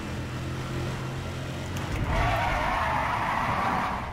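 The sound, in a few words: tire squealing car in video game Need for Speed World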